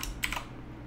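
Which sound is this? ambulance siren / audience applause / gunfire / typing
typing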